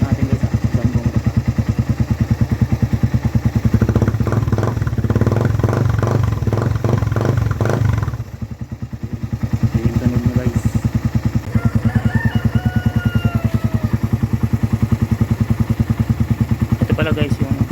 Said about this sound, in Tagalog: Pala guys yung tunog niya kapag walang silencer